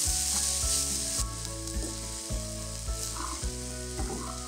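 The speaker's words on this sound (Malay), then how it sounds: "Goreng dalam seminit 2 supaya semua rempah tumis tu sebati dengan beras." Basmati rice frying with sautéed spice paste in a pot, giving a steady, close hissing sizzle that runs throughout beneath background music.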